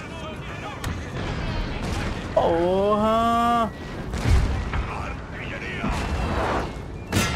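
Booming Napoleonic musket gunfire and artillery thuds from the video game Total War: Napoleon, with a voice shouting briefly over the battle noise and a horn-like tone in the middle.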